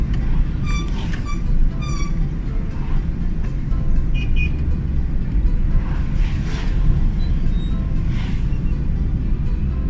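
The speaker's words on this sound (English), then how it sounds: "Gear number 4, driving much faster." A manual car driving fast in fourth gear gives a steady, loud road and engine rumble from inside the cabin, continuous throughout with faint higher rattles scattered on top.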